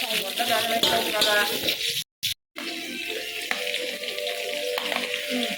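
Eggplant pieces frying with onions in a pan while cooking a biryani-style meal, a steady close sizzle with stirring scrapes, broken by a brief silent gap, with some background voice.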